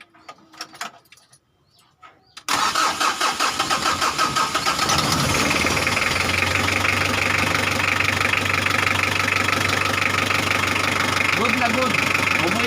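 Brief talk and clatter, then a 2016 Mitsubishi 4D56 diesel engine, repaired after a broken timing belt, cranks and fires up, settling into a loud, steady, clattering idle nearby.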